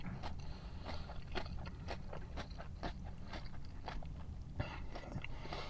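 Crisp, repeated crunching bites and chewing of a crunchy salad served alongside Korean beef, close and fairly quiet, with irregular sharp snaps over a soft background.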